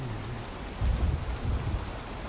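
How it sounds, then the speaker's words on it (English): Steady rain falls in the Valheim game world, a broad soft hiss with low rumbling swells of water and wind, continuous and fairly faint, with no talk over it. "Oh no, it's raining."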